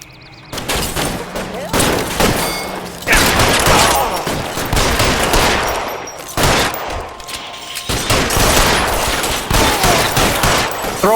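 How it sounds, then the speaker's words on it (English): Bursts of video-game gunfire from L.A. Noire come in loud, dense volleys with short gaps between them, rapid automatic shots crackling close by, and a voice can be heard faintly in the mix. "Fire a warning round."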